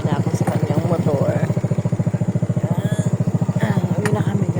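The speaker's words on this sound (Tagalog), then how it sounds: "Sakay na ako sa kanyang motor." A motorcycle engine idles close by with a steady, rapid low thumping pulse, ready for a ride home at dusk in Navotas.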